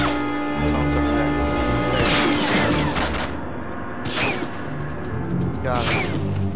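Gunfire from a World War II shooter, Medal of Honor Frontline, with several sharp shots cracking out at irregular intervals amid game ambience and music, while a voice talks over them.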